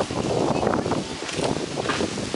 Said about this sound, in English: Nice and windy out.